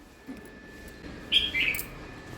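A couple of short, high bird chirps ring out close by over a quiet, steady background hum.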